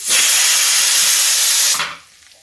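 Strong continuous hiss of ridge gourd frying in hot oil in a pan, loud and steady, then cutting off abruptly near the end and leaving quiet.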